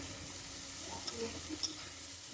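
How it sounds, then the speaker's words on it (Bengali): Shrimp fry in a pan with yardlong beans in a continuous soft sizzle, broken by a few faint stirring clicks and scrapes, close and low in level. "চিংড়ি মাছ দিয়ে আমি 2 মিনিটের মতো ভেজে নেব"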